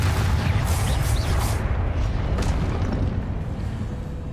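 A Depulso spell blast in Hogwarts Legacy, a heavy booming burst that opens loud and then decays into a rumbling wash of debris, with a second fainter thump partway through and no voices.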